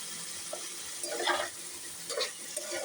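Spice masala fries and sizzles in a pan while a utensil stirs and scrapes through it in a few short strokes, close up and fairly quiet.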